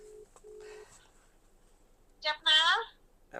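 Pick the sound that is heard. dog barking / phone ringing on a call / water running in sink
phone ringing on a call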